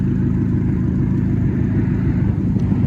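A Ford Fusion fitted with a loud Cherry Bomb exhaust idles close by, giving a steady, deep low-end rumble that holds evenly throughout with no revving.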